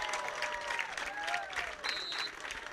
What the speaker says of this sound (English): Gets a round of applause, and he applauds the fans.